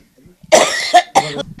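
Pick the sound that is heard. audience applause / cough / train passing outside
cough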